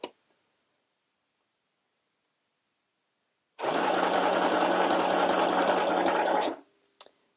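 An FHSM 505 mini sewing machine stitches down a buttonhole line in one steady three-second burst of fast, even needle clatter, close and alone after a long silence, ending in a faint click.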